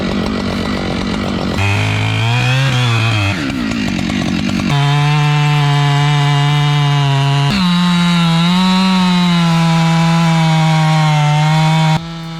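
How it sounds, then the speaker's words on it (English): A Husqvarna 592 XP chainsaw cuts through heavy wood, roaring loud and close throughout, its engine pitch shifting as the chain bogs and revs under load. "The Husqvarna 592 XP through heavy wood like it's routine."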